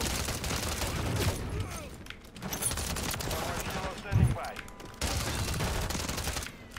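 Rapid, steady bursts of Striker 45 submachine gun fire in Call of Duty MW3 repeat throughout, with brief gaps and a player's voice faintly underneath.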